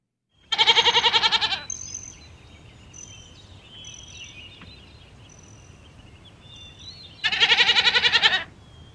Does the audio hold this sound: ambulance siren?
no